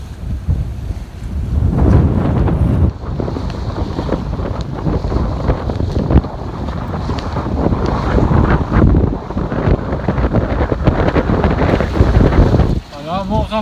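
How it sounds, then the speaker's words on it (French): Gusty wind of about 18 knots roars across a sailboat sailing near the coast, a loud, continuous buffeting rush that swells and dips, with a brief voice near the end. "Voilà, vent rafaleux"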